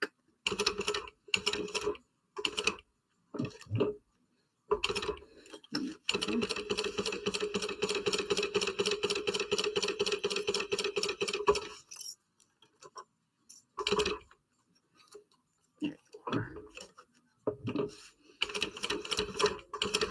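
A sewing machine stitches through thick webbing at the connectors of a fold-over carrier, with a long steady run of rapid needle strokes between shorter start-stop bursts, all close and clear.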